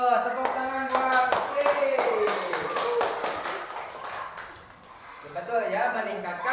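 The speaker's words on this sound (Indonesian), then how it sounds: "tepuk tangan buat" Children in a classroom clap together in a lively burst of rhythmic claps that thins out midway, then picks up again, while a voice speaks over them.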